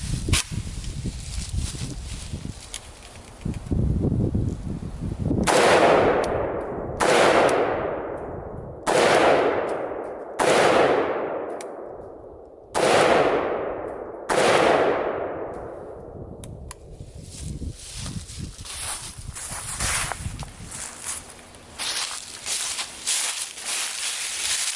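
A Yugo M70 N-PAP underfolder AK-47 rifle fires six loud, single shots at a slow, even pace, each one ringing out with a long echoing decay outdoors amid rustling background noise.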